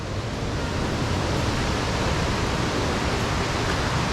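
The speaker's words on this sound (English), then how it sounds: "You could hear it rushing river down there." Rushing river and waterfall in Skagway, Alaska, heard as a steady, dense roar of white water with no breaks, fairly loud and close, no voices over it.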